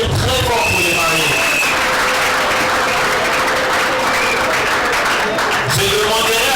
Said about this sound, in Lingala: Est-ce qu'on peut applaudir très fort pour les mariés?